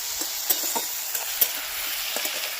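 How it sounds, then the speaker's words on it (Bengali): Tomato and spices frying in a pan for a winter-vegetable khichuri, a steady close sizzle with a few stirring scrapes, no voices. "এই টমেটোটা যতক্ষণ পুরো নরম হচ্ছে ততক্ষণ আমি ভেজে নেবো"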